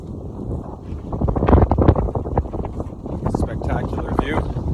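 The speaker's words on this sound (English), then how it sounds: "Super windy up here." Strong, gusty wind on a mountain ridge along Jasper's Skyline Trail buffeting the microphone with a low roar, and a voice talking briefly under it.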